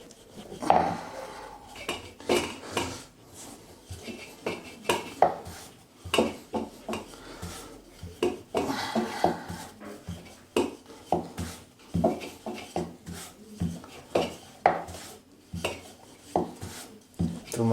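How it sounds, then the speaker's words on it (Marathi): A rolling pin knocks and rolls over colourful puri dough on a board, giving repeated close wooden thumps and scraping rubs in an uneven rhythm, with no talking. "चला आपण ह्याची पुरी लाटून घेऊया."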